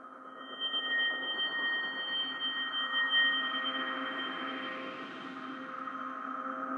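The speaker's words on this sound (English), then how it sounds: "I went to the Halloween expansion and I found this cool little like hologram type thing" Ambience preset from the Nexus 2 Halloween expansion with a hologram-like character: sustained synthetic tones with a bright, whistling high line and a soft pulsing shimmer that drifts and swells over several seconds.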